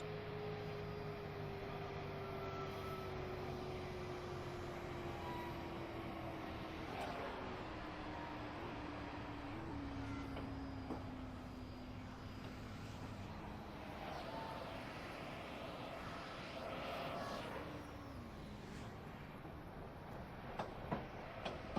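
An ACS-64 electric locomotive pulling away in a train simulator game, a faint steady electric motor whine falling slowly in pitch over a low rumble of rolling wheels, with a few clanks near the end.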